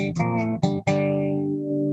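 An electric slide guitar plays a short riff of a few sustained notes, with sliding pitch and a long ringing final note, no voices.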